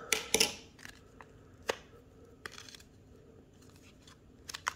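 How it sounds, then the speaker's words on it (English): A trading card pin package being ripped open, heard as a few sharp crinkling tears of plastic up close at the start, followed by quieter sporadic rustles and snaps. "I don't know how to rip this open"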